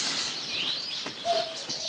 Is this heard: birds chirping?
yes